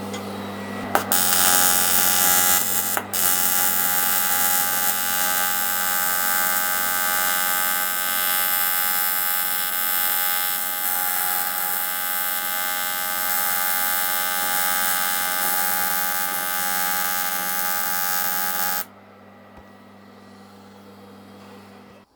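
TIG welding on an aluminium KTM motorcycle crankcase: a steady, loud electric buzz and hum with a harmonic whine that holds for nearly twenty seconds, then cuts off abruptly into quieter room noise.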